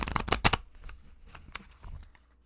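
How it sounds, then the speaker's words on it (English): A Haunted House tarot deck shuffled by hand, a few quick riffling bursts up front followed by softer, scattered card taps and slides, close and fairly quiet. "I'm going to shuffle again"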